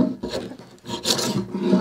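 A Stanley No. 62 low angle hand plane shaves a wooden workbench, taking slightly thick shavings in two or three quick, rasping strokes up close.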